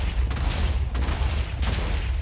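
Minecraft blocks placed and broken in rapid succession with explosions, a dense crackling burst of booming game effects that surges in a few waves, loud and continuous.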